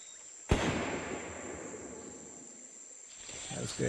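A single sharp played-back recording of a gunshot, outdoors in a field, followed by a long, noisy rumbling decay that fades over several seconds.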